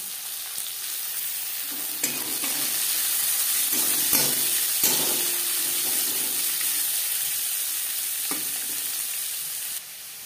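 Chopped onions frying in oil after a five-spice tempering for a potato and fish curry, making a loud, steady hiss with a few soft clinks of stirring.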